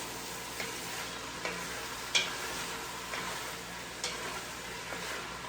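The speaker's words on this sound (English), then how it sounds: "I have my plum tomatoes diced. Go in there. And give this a quick stir real quick before I add anything else." Diced plum tomatoes stirred in a hot pot for okra soup, a soft continuous sizzle under several spaced scrapes of a spoon against the pot, fairly quiet and close, with no talking.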